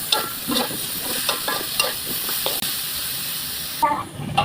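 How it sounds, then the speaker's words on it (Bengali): Spices and dried loitta fish being stirred in a frying pan, with steady sizzling and hiss broken by repeated scraping strokes of the spoon, close and continuous throughout. "মশলা দেওয়া শেষ, এখন আমি নেড়ে মিশিয়ে নিই। আমি শুটকিগুলো দিয়ে দিলাম।"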